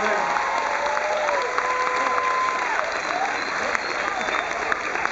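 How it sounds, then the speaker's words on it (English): An audience applauding at a hypnotist show aboard the Carnival Splendor cruise ship, sustained dense clapping from a crowd lasting several seconds, with a voice speaking over it. "Give him a nice round of applause."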